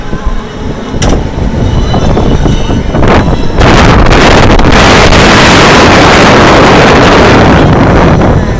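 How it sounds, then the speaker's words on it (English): Strong wind at an amusement park buffets the microphone in loud, rumbling gusts that build and become constant, drowning out other sound. "it's really windy"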